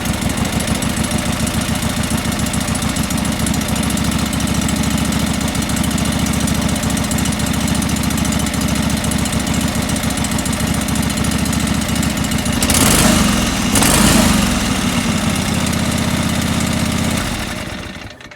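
A John Deere 445 lawn tractor engine runs steadily at a close, loud idle with a constant throbbing hum that surges briefly near the end, then cuts off abruptly.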